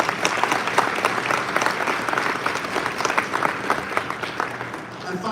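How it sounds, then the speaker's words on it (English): A summit crowd gives a big round of applause, a loud wash of clapping with distinct sharp claps and a hint of cheering, tapering slightly at the end. "please thank them with a huge round of applause"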